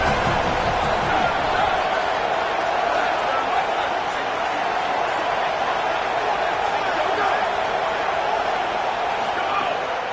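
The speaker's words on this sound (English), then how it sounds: "Big third down as the crowd gets behind this defense." A college football stadium crowd in the College Football 27 video game, a dense, steady roar of cheering that holds at a loud, constant level throughout, with play-by-play commentary talking over it.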